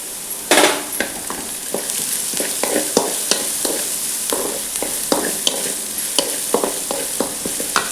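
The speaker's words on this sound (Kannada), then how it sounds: "ಎಣ್ಣೆ ಒಂಚೂರು ಫ್ರೈ ಮಾಡ್ಕೊಂಡು ಇದಕ್ಕೆ ಒಂದು ಚಮಚ ಜೀರಿಗೆ ಹಾಕಂತೆ" Cumin seeds frying in a little oil with onion for a semolina idli batter, a close bright sizzle punctuated by repeated sharp clinks and scrapes of a spoon against the pan.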